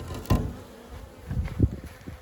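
Honeybees fly back to the hive carrying pollen, giving a faint buzzing among a few sharp bumps and taps close by, with no talk.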